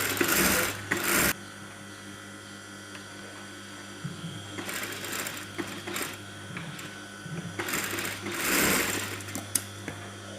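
A sewing machine stitches a kameez band collar in three short bursts of loud, close whirring, separated by quieter pauses filled with faint handling clicks and a low hum.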